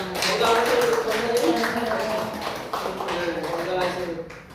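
A church congregation at an Easter Sunday service claps in honor of elderly deaconesses; a steady patter of hands runs under a voice speaking and murmuring throughout.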